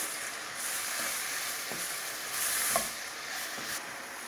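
Minced meat and onion fry together in a pan with a constant, fairly loud sizzle and occasional stirring scrapes, heard alone without talk.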